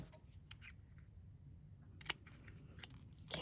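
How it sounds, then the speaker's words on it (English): Scissors cut paper for an owl embellishment craft, making several short, quiet snips and crisp clicks spread across a hushed room with no talking. "Just go ahead and cut out a little bit smaller piece."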